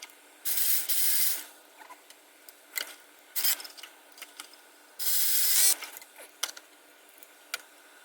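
Ratchet clicking in short bursts while tightening the belt tensioner on a 2011 Mercedes GLK 350 M272 engine, several quick ratcheting runs with pauses and small taps between them, close and clear.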